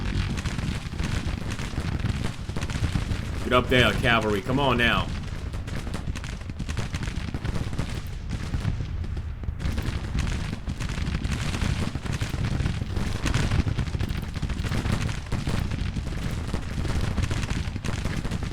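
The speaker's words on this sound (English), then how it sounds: "It is devastating gunfire, guys. Just listen to that crackling sound." Dense, continuous crackle of musket volleys in a large American Civil War battle in the video game Grand Tactician: The Civil War rolls on without pause, with someone briefly shouting orders over the din.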